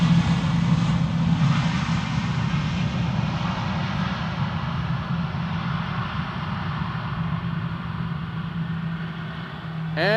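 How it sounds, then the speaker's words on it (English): Airliner at Schiphol Airport, its jet engines giving a steady, loud, broad roar with a low droning hum that holds throughout, with no speech. "Bellissimo aereo"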